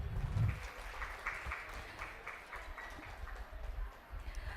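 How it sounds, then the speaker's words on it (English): An audience at a national conference applauds, a dense patter of clapping heard from a moderate distance that holds steady for several seconds without fading, with no talking over it. "Please give a round of applause for ma'am."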